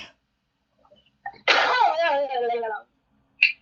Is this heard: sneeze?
yes